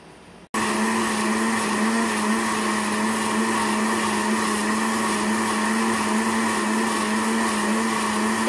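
A blender whirs at full speed, chopping milk, ice and kiwi, strawberry and banana into a smoothie. It starts abruptly after a brief quiet moment, then holds a loud, steady, close motor whine to the end.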